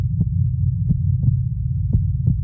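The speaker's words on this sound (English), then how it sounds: "That is the sound of the sun pulsating" Low resonant recording of the sun pulsating: a steady deep hum with soft periodic thumps recurring roughly every half second, like a slow heartbeat.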